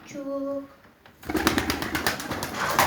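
Young pigeon indoors in a house gives a short cooing call, then wings flap in a burst of rapid, close fluttering beats that continues to the end.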